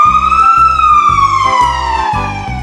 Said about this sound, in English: A red fire truck.